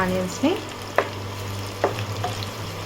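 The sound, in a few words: onions and cumin frying in oil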